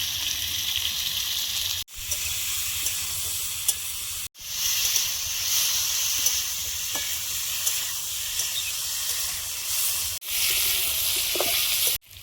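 Five-spice mix, salt and turmeric frying in hot oil alongside potatoes, a loud continuous sizzle with brief breaks and a few faint clinks of stirring, no voices.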